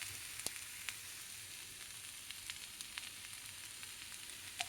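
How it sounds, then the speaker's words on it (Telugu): Food frying in a pan with chilli flakes during iftar cooking, a steady close sizzle with scattered small pops and crackles throughout. "పూర్తిగా ఆరిపోయే వరకు కొద్దిగా ఒక 5 నిమిషాలు ఇలా వేయించుకోవాలండి"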